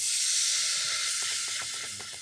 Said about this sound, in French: On va commencer à déglacer.